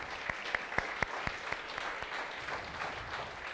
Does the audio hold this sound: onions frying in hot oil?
no